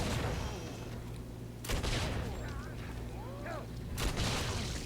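Two sharp gunshot blasts ring out from a weapon in a video game, about two seconds apart, over a steady bed of game ambience with faint chirping tones.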